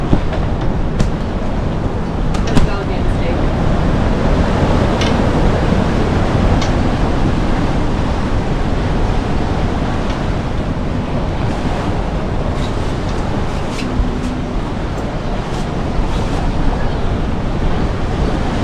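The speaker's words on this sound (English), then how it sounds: "Gust of 35 knots at a bad time." Strong 35-knot wind gusts and rough seas off Japan surround a sailing boat, a loud, unbroken roar of wind and water with microphone buffeting and occasional sharp splashes and knocks.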